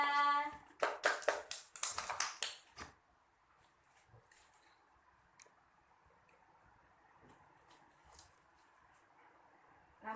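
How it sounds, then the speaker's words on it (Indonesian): A few seconds of brisk hand clapping from a classroom of schoolchildren for a classmate, loud and close, then stopping abruptly and leaving faint room noise with occasional small taps. "Tepuk tangan untuk Syakila"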